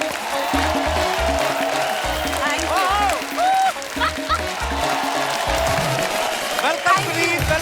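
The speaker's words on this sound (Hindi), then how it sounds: "जोरदार तालियां होनी चाहिए इनके लिए" An audience on a comedy show applauds to welcome a guest, steady clapping running throughout while someone talks over it and music plays.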